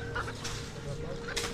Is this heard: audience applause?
no